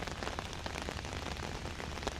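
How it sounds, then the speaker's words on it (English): Steady rain pours down outdoors in cold weather, a dense continuous hiss with scattered drop patter throughout, close and fairly loud with no talking. "Holy rain, man."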